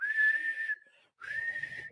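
A person whistling in imitation of a referee's half-time whistle: two clear, sustained high-pitched blasts, the first longer, separated by a short pause, close and loud.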